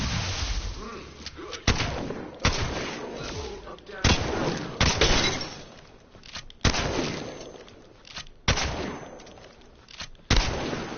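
Mastiff shotgun in Apex Legends fired again and again, each heavy blast followed by a decaying tail and short gaps for reloading, loud and close, with a voice talking in between.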